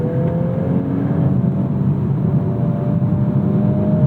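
A Volkswagen Golf R MK8 or Acura Integra Type S hot hatch downshifts while entering a corner, its engine droning loud and close with shifting pitch over a continuous road roar.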